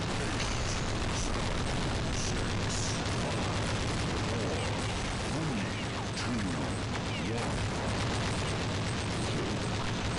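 Dense, continuous volley of Counter-Strike Online gunfire, including a D.Eagle pistol, and explosive bursts, loud and sustained throughout with no pauses.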